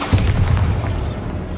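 A spell explosion in the Hogwarts Legacy video game, a deep boom with a low rumble that swells early on and then fades. It stands alone with no talk over it.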